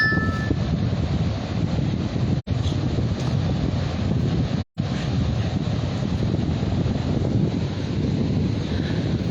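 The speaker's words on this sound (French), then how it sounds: "c'est un vent d'ouest." Strong, constant wind roaring across an open microphone, with low rumbling buffets and a couple of brief dropouts, no speech.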